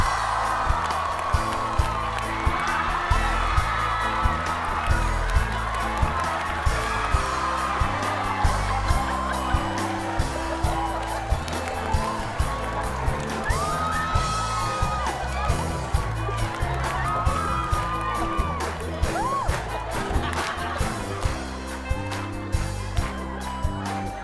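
A stage-show audience cheers and whoops for the performers, a loud, sustained roar of voices with some clapping over rhythmic background music.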